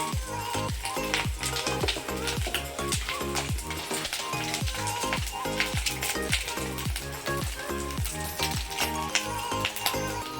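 A spice masala of turmeric and chili powder sautés in a pan for a sumrai fish curry, with a continuous sizzle and quick, regular scraping strokes of stirring repeating throughout.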